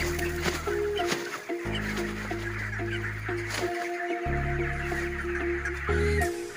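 Broiler chickens, about 25 days old, clucking inside a farm shed, with many overlapping soft clucks and calls over a steady fan hum, fairly close, no talking.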